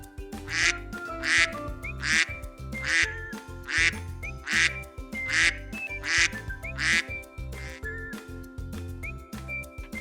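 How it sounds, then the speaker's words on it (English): A duck quacking in a steady series of about nine short, nasal calls evenly spaced over a soft farmyard background. "duck,"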